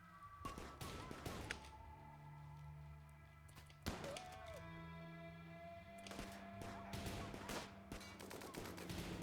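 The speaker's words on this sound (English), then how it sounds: "Shotguns, man." Shotguns fire in the video game Rimworld as a few sharp, faint bursts of gunfire separated by quieter gaps, with low game sounds in between.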